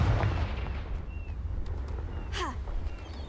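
Spell blast from a fire curse in Hogwarts Legacy: a loud, booming burst up front that rolls into a long rumbling tail, with a bright swooping whoosh near the end and no voice over it.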